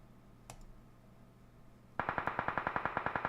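Rapid automatic gunfire from Team 9 in PUBG Mobile during an esports tournament, a sharp burst of evenly spaced shots starting partway through, loud and close, after a single distant crack earlier.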